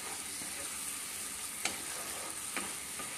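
Green chillies, lightly slit, frying with spices in a pan for a vegetarian banana-flower dish: a steady, quiet sizzle with a few sharp clicks of a spoon stirring against the pan, no voices.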